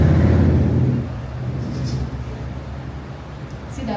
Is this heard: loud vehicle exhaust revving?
yes